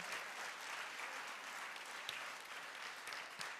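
A church congregation applauds the name of the Lord during a Spanish-language service, a soft, distant, even patter of many hands clapping with no break.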